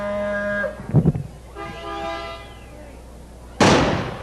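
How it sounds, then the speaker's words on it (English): A cannon fired during the 1973 Syttende Mai parade in Stoughton, Wisconsin, one sudden loud blast near the end after a horn tone, a rattling burst and a passing whistle-like sweep. "going to shoot their cannon, Bob. Oh. Look out, here it goes."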